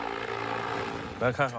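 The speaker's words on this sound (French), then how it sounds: "À Shenzhen, c'est bien une soucoupe volante qui sillonne chaque jour le ciel en vol test" A homemade 200 kg carbon-fibre flying saucer driven by electric motors hums and whirs steadily during a test flight in Shenzhen, with a voice briefly breaking in near the end.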